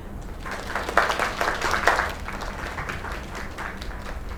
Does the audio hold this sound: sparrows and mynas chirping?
no